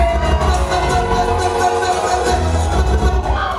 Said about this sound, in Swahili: Wale ambao wako wenyewe piga vigelegele.